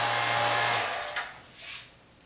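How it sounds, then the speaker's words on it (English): A vacuum pump draws air out of a bell jar with a steady loud whirring hum that cuts off partway, followed by a couple of brief hissing bursts as it winds down. "it's not a vacuum cleaner, it's a vacuum pump. It's suctioning the air out"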